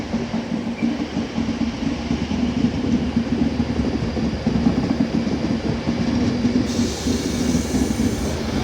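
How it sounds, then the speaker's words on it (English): A Northern train service to Whitehaven pulls out of Carlisle station, a loud, steady rumble of engine and wheels close by, with no voices. "Off goes the 1710 Northern Train service to Whitehaven, starting here at Carlisle."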